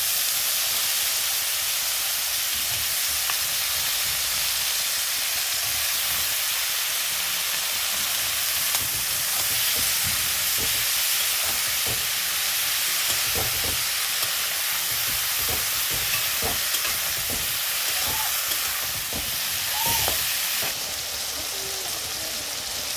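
Small chopped eggplant pieces frying in hot oil in a pan, a steady, close sizzle and hiss that runs throughout, with occasional soft pops and stirring sounds.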